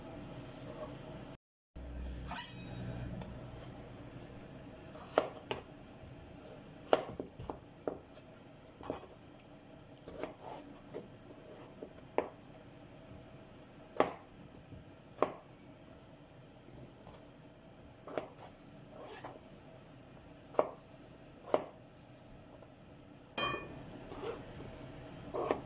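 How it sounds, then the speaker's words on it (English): Potatoes diced into small cubes with a knife on a cutting board, giving a steady series of crisp, evenly spaced chops at close range with low kitchen background noise. "I'll start chopping them up to small cubes."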